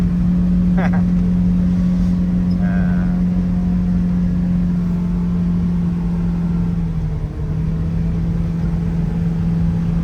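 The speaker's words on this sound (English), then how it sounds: "Our new guy driving down the middle of the road." A car rolls slowly down the middle of a deep-snow road in Mammoth Lakes, its engine a steady, close, low hum running without a break, with faint voices murmuring underneath.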